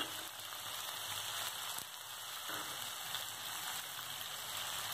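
Chopped onion and nigella seeds fry in hot oil for an aloo posto, giving a steady, dense sizzle that runs evenly throughout with no voices.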